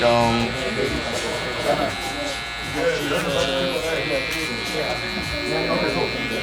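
Electric hair clipper with a number 1 guard buzzing steadily up close while cutting a side taper on a client's hair, a constant droning hum with slight variations as it moves, under someone talking throughout.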